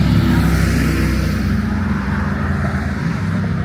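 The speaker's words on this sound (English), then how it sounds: "it would be nice if we didn't have so much car noise personally" Constant car traffic rumbles through Manhattan streets, a loud steady roar of engines and passing vehicles with no voices over it.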